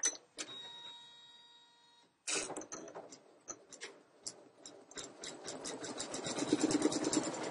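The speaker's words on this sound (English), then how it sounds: "Now let's embroider." A Janome Memory Craft 9850 embroidery machine stitches a design at close range with quick mechanical ticking and rattling pulses, some softer tones early on and the stitching growing busier and louder toward the end.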